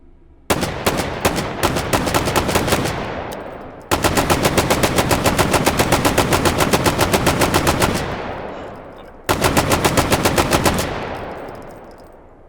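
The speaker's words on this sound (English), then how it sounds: "our beefy Mark 17. No real major changes to this, just new gorgeous sounds." A Mark 17 rifle in the H3VR game fires three sustained bursts of fully automatic gunfire, loud and rapid, with short pauses between bursts and the shots ringing out at the end of each burst.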